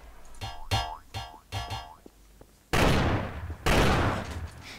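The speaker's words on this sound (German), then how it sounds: "Die Bananenbombe kam nicht so geil." In Trouble in Terrorist Town, a banana bomb goes off: a run of springy boing-like bounces, then two loud, close explosive bursts with long noisy tails, no talking.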